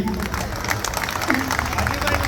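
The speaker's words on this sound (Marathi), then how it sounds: "जोरदार टाळ्या ह्या आजीबाईसाठी" Applause from a crowd, a steady patter of many hands clapping, with voices mixed in.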